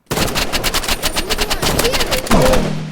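Loud, close video game gunfire, with rapid repeated shots in a continuous burst lasting a few seconds, including sniper rifle fire, and a brief tonal game effect near the end.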